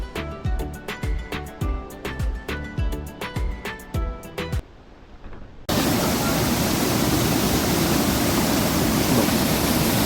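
A forest waterfall roars as a broad, dense wash of falling water that cuts in abruptly partway through and stays loud and steady, after a stretch of regular rhythmic tapping and tones.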